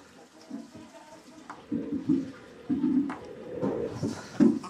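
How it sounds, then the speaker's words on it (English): Water from a DIY chicken waterer made from a 50-gallon food-grade barrel trickles and splashes in uneven bursts, close by, with some gurgling spurts growing louder toward the end. "There we go, water coming out of that one."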